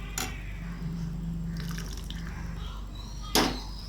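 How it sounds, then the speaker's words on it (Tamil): Cooking water from boiled dal is poured into a pot of Tamil parupu rasam, a soft trickling splash between two sharp clinks of a vessel, close by with no talking. "அதோட பருப்பு வேக வச்ச தண்ணியை இதில் சேர்த்துக்கலாம்."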